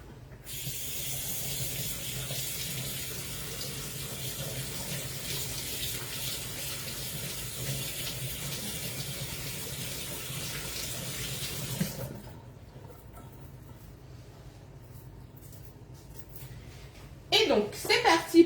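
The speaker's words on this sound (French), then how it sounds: "Je me lave les mains." Kitchen tap water running steadily while hands are washed, a continuous splashing hiss that stops abruptly midway, followed by quiet room tone and a few brief clatters near the end.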